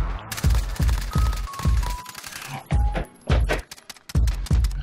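Bursts of MP7 gunfire in Call of Duty Modern Warfare, loud and close, fast rhythmic volleys of sharp shots broken by short pauses, with almost no talk.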